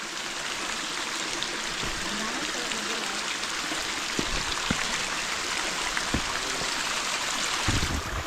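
Strong water pours steadily from a spring source on a farm lot in the Philippines, a constant loud rushing hiss with no pauses.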